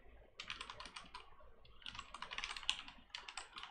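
Rapid clattering keystrokes on a computer keyboard while Go code is typed, coming in close, steady bursts with a short pause early on, with no talking.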